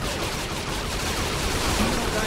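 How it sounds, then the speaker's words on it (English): Enemy gang gunfire in Saints Row 3 Remastered, a dense continuous barrage of shots blurring into a loud steady roar from behind, with faint talk mixed in. "We got people behind us shooting us."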